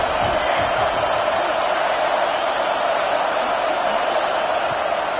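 Stadium crowd in the College Football 26 video game roars in a continuous, loud, dense wall of cheering, steady throughout with no break.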